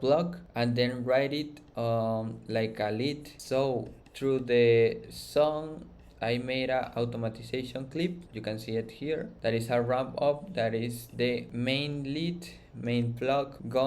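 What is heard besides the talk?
No everyday noise stands out behind the speech.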